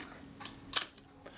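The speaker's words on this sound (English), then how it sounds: "The shutter section certainly functions. Film advance works." Faint mechanical clicks from a Voss Diax IIa camera's shutter and film advance: a few small, sharp ticks, one slightly louder snap in the middle, heard close up in a quiet room.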